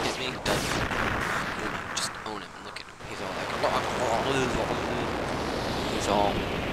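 A boss blowing up in the final fight of Kirby: Nightmare in Dream Land, a loud, continuous wash of crackling blasts and rumbling noise with game effects and a voice talking over it.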